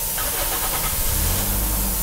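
A car engine cranks and catches during a radiator system flush, then settles into a steady, low idle rumble close by, with no voices.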